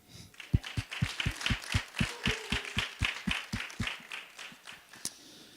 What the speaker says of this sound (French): On applaudit Paul.